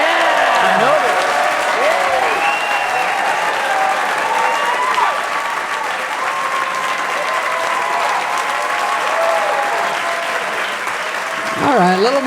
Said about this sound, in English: a little more applause than we got